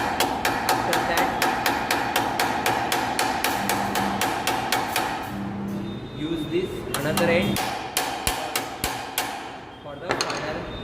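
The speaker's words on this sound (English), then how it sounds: "use a straight cut hammer, ball pin hammer, and first with the hammering" A ball peen hammer strikes metal on an anvil in a workshop practical, loud rapid ringing blows in a steady rhythm, pausing briefly before resuming, with a short spoken remark partway through.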